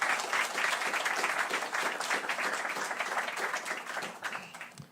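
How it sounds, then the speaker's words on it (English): An audience at a panel discussion applauds the speakers, a dense wash of many hands clapping at steady strength before tapering slightly at the end. "Can we give everyone a round of applause?"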